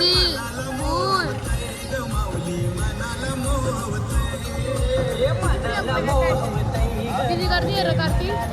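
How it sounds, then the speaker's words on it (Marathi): Many voices chatter and murmur at a crowded temple, a steady, loud hubbub of mingled speech throughout with nearer voices rising above the babble now and then. "किती गर्दी आहे रे कार्तिक बघा"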